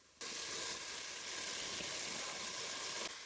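Chicken and whole spices sizzle steadily in a hot pan, a loud, even frying hiss that starts abruptly and holds for a few seconds with no talking.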